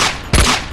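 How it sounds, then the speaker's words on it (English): A short, loud burst of gunfire from above in the Cyberia video game, a single sharp crack that rings out briefly over quiet background. "Shots are coming from above us."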